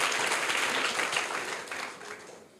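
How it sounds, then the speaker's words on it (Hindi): A crowd at a prize ceremony at a private inter college in Varanasi applauds loudly, the clapping dense at first and gradually thinning and fading toward the end. "जोरदार तालियां इनके लिए"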